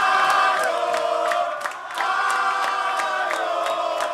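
Football crowd in a stadium before kickoff, a sustained loud roar of voices with rhythmic chanting and regular pulsing accents throughout.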